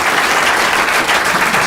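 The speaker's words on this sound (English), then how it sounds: "Can we get a round of applause for the wait staff?" Comedy club audience clapping for the wait staff, a dense, steady burst of applause close and loud, with no talk over it.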